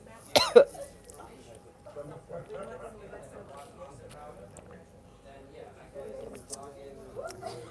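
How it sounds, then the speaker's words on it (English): A single sharp cough near the start, followed by quiet murmuring and shuffling sounds, with a faint throat noise near the end. "why am I coughing?"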